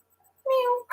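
A person's voice imitates a cat, giving one short drawn-out meow that sounds nearly alone.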